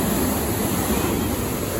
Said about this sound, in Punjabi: ਆ ਦੇਖੋ ਪਾਣੀ ਕਿੰਨੀ ਰਫਤਾਰ ਤੇ ਆ ਹਨਾ